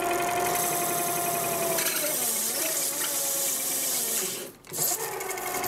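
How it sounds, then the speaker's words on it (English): Small metal lathe cutting at a radius, a loud tonal machine whine with a pitch that sags and wavers as the cut bogs it down, dipping briefly near the end as the spindle stalls, then recovering. "actually stalling the lathe at that radius"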